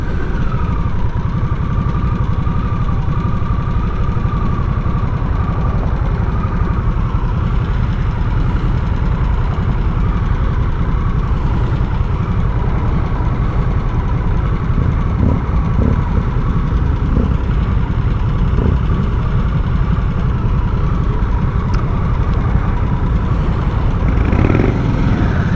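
A Harley-Davidson Nightster Special motorcycle runs steadily with a low, even engine note throughout, no obvious rev surge, sounding fairly quiet and smooth against constant road and wind rumble.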